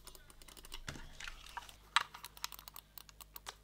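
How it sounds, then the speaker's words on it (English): Clicky buttons on an affordable photo editing controller, pressed as a handful of sharp, close clicks spaced irregularly over a quiet background, with a softer thump early on. "the buttons, they kind of make a clicky sound that you'd get from a PC mouse"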